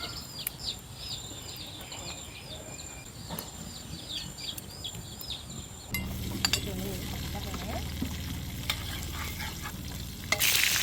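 Coffee pan-roasted while being stirred gives a dry rustling and scraping that grows louder and denser partway through, with birds chirping faintly in the background.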